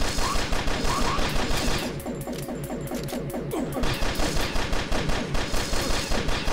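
Rapid gunfire in the turn-based strategy game XCOM 2, a dense loud barrage of repeated shots with a brief softer lull in the middle before the bursts resume, no talking.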